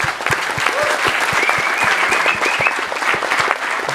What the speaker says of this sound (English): So let's give them one big round of applause.